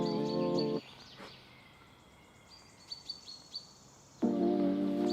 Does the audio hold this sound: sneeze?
no